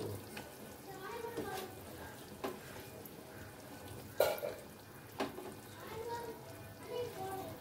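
Fish pieces, including the head, are slipped one by one into hot oil in a pan in a Bengali home kitchen. Steady moderate sizzling runs throughout, with sharp spattering bursts as each piece goes in.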